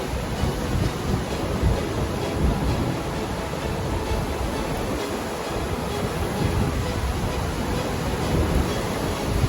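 Vaal River floodwater released through eight open sluices of the Vaal Dam, rushing under a bridge in a continuous broadband roar, with wind buffeting the microphone throughout.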